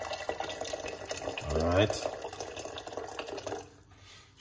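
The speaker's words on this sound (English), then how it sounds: "we're going to get hot water in the pot." Hot water pours into a cooking pot for a short gurgling burst with a rising pitch as it fills, close by and fairly loud, while someone speaks briefly before it.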